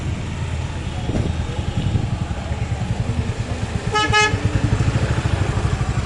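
Busy road traffic by Fateh Sagar Lake in Udaipur with long queues of cars and motorcycles, engines droning nearby, a clear horn toot standing out midway and a voice talking faintly underneath.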